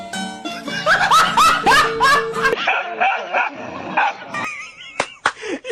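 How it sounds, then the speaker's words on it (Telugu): Household dogs squabble up close in a loud flurry of barks, high yips and whining cries, with bursts that come and go irregularly over several seconds. "భలే కుక్క ఉన్నది ఇది."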